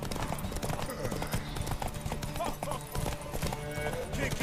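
Steady hoof clip-clop from a trotting horse in The Witcher 3: Wild Hunt, over a busy, loud backdrop of music and game sounds.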